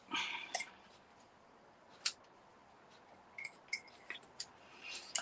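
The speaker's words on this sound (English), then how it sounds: "Ribbon, scissors, there we go." Scissors snipping ribbon, a few sharp close clicks and cuts scattered over quiet stretches, with a small cluster of quick snips near the end.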